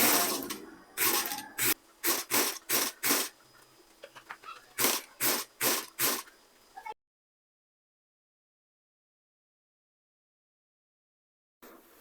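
A sewing machine stitches a dress hem in quick, loud runs of rhythmic bursts, stopping and starting several times before falling silent, then briefly whirring again at the end.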